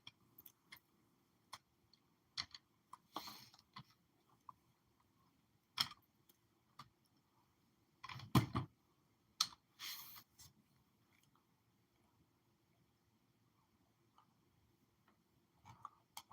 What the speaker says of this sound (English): I'm just going to type the word in.